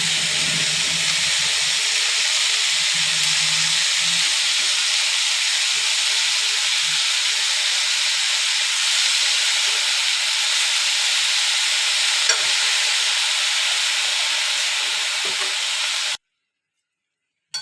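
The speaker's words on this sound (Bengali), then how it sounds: "দেখো আমি আস্তে আস্তে করে নেড়ে নিচ্ছি।" Spinach wilts in a hot pan, a long, even hiss of steam and sizzle with only faint movement from slow stirring. The sound carries on unbroken until it stops suddenly near the end.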